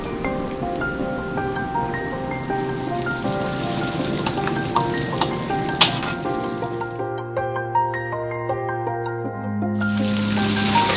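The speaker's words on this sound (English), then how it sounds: "Broccoli in there just for a second. We just want to blanch it." Broccoli blanches briefly in two quarts of hot oil in a ramen bar kitchen, with a steady, loud crackling sizzle that runs throughout over a background tonal hum.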